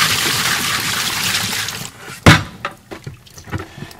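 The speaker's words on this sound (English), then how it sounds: "let's go over to the sink. Pour all this liquid out." Liquid whey, a clear mixture of milk and vinegar, is poured out into a kitchen sink, a steady rushing splash that stops abruptly, followed by a few scattered drips and small clinks.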